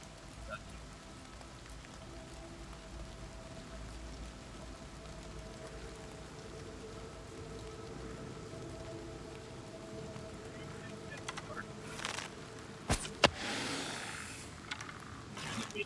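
Rain patters steadily inside a dungeon in the video game Oblivion Remastered, a soft, even hiss with a few sharper bursts near the end.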